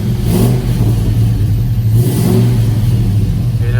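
A C10 truck engine revs under acceleration, a loud, close, throaty drone with two rising surges and a steady rumble between them.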